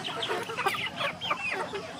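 Chickens clucking close by, a run of short, choppy calls one after another with steady background noise underneath.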